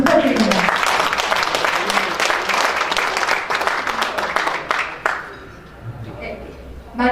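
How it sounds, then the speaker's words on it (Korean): An audience gives dense, energetic applause after a soprano and violin performance. The clapping is loud and sustained for about five seconds, then thins out and fades, with a voice speaking over it. "김서영 소프라노 선생님 그리고 바이올리스트 장선우 선생님께 다시"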